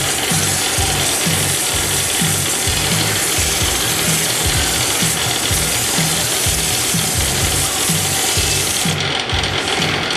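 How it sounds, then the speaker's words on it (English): A lathe turning is sanded with sandpaper held behind a block, giving a continuous abrasive rasp over the steady hum and whir of the spinning lathe, loud and close. The rubbing pulses evenly with no speech. "hold the sandpaper behind the block, being careful not to use too much pressure"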